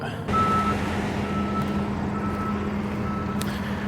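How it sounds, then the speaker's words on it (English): A truck idles steadily nearby with a broad, constant engine rumble, a thin tonal beep running over it for part of the stretch, and no talk. "Suppose I should probably shut the truck off."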